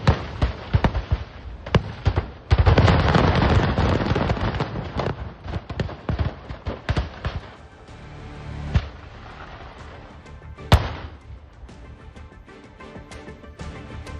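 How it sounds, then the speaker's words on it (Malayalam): A large fireworks explosion at the Thrissur Pooram festival booms loudly, followed by a string of sharp follow-up blasts and crackling bursts that fade into scattered pops and a final distinct bang. "ഒരു വലിയ ഉഗ്രസ്ഫോടനവും അതിനോട് തുടർ സ്ഫോടനങ്ങളുടെയും ആ ശബ്ദങ്ങളാണ് നമുക്ക് കേൾക്കാൻ കഴിയുന്നത്."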